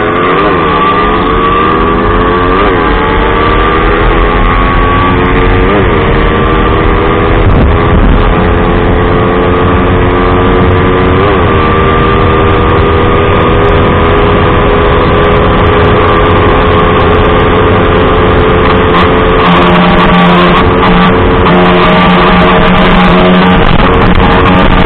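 A motorcycle engine drones steadily and close throughout while riding, lacking pulling power, its pitch rising and falling in repeated sweeps as it revs and settles, with no voices.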